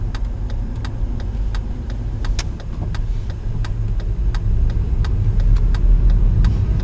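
A manual-transmission car creeps along slowly without the clutch, its low engine rumble steady and gradually building, with a regular ticking, likely the turn signal, clicking throughout. Nobody speaks.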